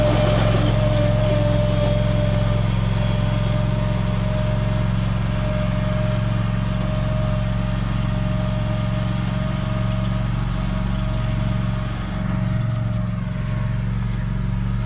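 A riding lawn mower runs steadily throughout, a loud continuous engine drone with a sustained tonal hum that holds close and constant across the whole stretch, with no talk over it.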